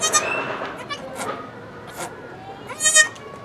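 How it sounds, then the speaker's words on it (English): A young black-and-white goat bleating close by, several short nasal cries in quick succession with the loudest near the end, between moments of quiet. "Is this a good goat?"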